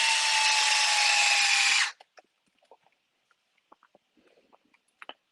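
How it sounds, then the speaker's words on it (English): A power drill drives screws into a rear clip part of an 8IGHT-X 2.0 model car build: one loud, close two-second whir, then a scatter of small clicks and taps as parts are handled. "I'm going to take this and put these screws in."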